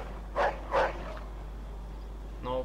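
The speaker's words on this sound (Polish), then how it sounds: "No ten pies mnie tu irytuje." A dog in the video game Mafia 2 gives two quick barks followed by a shorter yelp, moderately close, between stretches of quiet.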